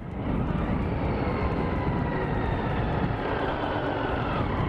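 A Triumph Street Triple 675 motorcycle engine drones steadily while riding, heard from onboard with heavy rushing wind noise blended into a continuous loud roar.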